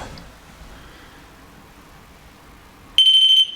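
A paranormal investigation pod device sounds its alarm in a hotel-restaurant: after near silence, a loud, piercing electronic tone blares for about half a second, then cuts off.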